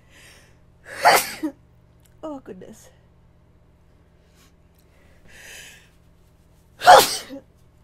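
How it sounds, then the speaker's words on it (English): Two loud, sharp sneezes close by, several seconds apart, with a brief spoken exclamation between them. "I don't mean to sneeze right in your ears"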